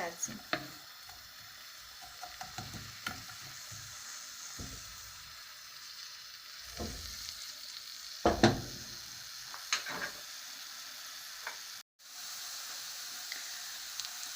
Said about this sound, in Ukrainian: нехай помаленьку смажиться